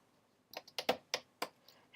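Quick clicking keystrokes on a computer keyboard, about six or seven taps in an uneven rhythm, close and fairly quiet, with no talk over them.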